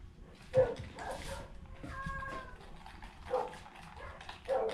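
Dogs outdoors in a Filipino neighborhood give a few scattered barks and yips, moderately distant and fairly faint, separated by quiet gaps.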